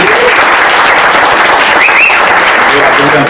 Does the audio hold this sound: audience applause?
yes